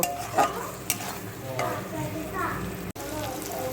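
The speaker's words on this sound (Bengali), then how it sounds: "দিয়ে দিচ্ছি অল্প একটু হলুদ দিয়ে ভালো করে নাড়াচাড়া করে আবার কষিয়ে নেব" Ridge gourd and potato with turmeric are stirred and sautéed in a pan, with a steady close sizzle broken by scraping strokes of the spatula and a brief clink, all fairly loud.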